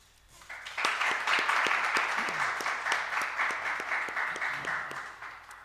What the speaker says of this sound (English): I don't know if you could hear the applause in the room